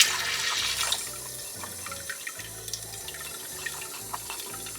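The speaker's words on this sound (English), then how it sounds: "water, I need to get some in that bowl" Cold water running from a kitchen tap into a bowl, a steady close splashing stream with small drips and gurgles, alone without talk.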